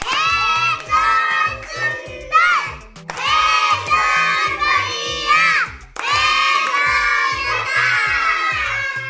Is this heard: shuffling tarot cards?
no